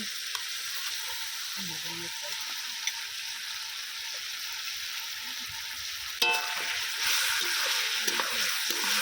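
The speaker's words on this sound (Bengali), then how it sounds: "এবারে আমি ম্যারিনেট করা মাংসটা দিয়ে দিচ্ছি মটন" Marinated mutton frying in spice masala for a potato mutton curry: a steady, close sizzle hisses throughout, with a louder burst of frying and stirring scrapes from about two-thirds of the way in.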